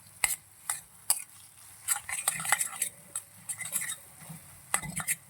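A metal spatula clatters and scrapes in a pan while stirring and smashing gongura egg fried rice into small pieces, a series of sharp, close, irregular clinks and knocks with brief pauses between.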